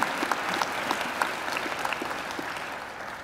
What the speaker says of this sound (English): I'm sure you'd like to give them a round of applause as well.